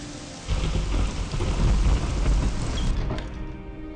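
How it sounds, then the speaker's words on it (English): Steady rain with rolling thunder in the video game Morrowind, a loud continuous downpour that swells after a quiet opening and rumbles low throughout. "Fucking rain."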